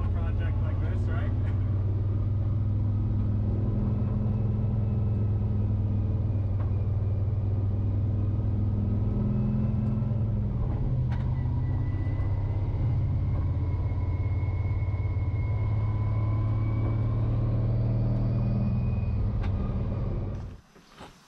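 A turbo LS-swapped Mazda RX-7 FD drives slowly home on the road, its engine droning low and steady for a long stretch with road rumble, and a voice talks over it before the sound cuts off.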